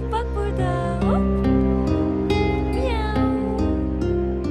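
A cat meows a few times, fairly close, over background music.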